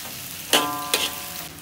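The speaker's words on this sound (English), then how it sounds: "Stir until the onion will become golden brown." Chopped onion sizzles in hot oil in a pan for chicken biryani, two sharp bursts of crackling as the onions are stirred, then a steady fizz, close with no talk.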